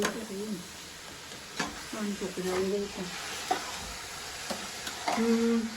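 Onions frying in a pan for macaroni, a steady sizzle with stirring scrapes and clinks while voices talk over it.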